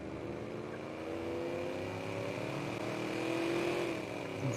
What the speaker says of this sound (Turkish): abi araba çok güzel sesi yapmışlar